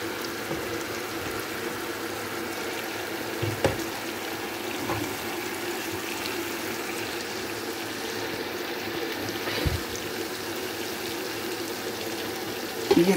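Steady running water poured into a pot of lightly browned chickpeas for chickpea pulao, a continuous splashing trickle with a few soft clunks, no talking.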